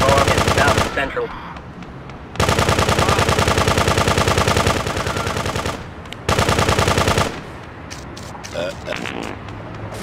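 Rapid machine gun fire from the video game GTA 2 rattles in three long sustained bursts, loud and close, with quieter game sounds in the gaps between.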